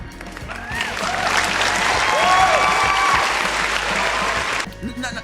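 A large audience cheers and applauds at a GameCube announcement during a Nintendo Direct, a loud sustained roar of crowd noise with whoops and whistles that swells, holds for several seconds, then cuts off abruptly.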